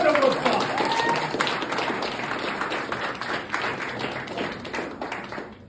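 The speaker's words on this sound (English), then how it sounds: "Round of applause." A crowd applauds and claps steadily at a bare-knuckle boxing weigh-in for BKFC 55 in Leeds, a dense, loud roar of hands and cheering that fades slightly over several seconds.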